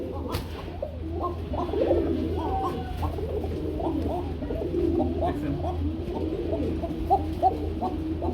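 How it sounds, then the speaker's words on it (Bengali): Danish Koka pigeons cooing over and over in soft, rolling low calls, steady through the stretch, with voices and a low background hum underneath. "যেটা ডাকার সেটা এভাবেই ডাকবে"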